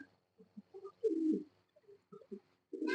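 A pair of Andalusian pigeons, a male and a female, coo close by in short soft repeated phrases with small gaps, ending in a louder rolling coo.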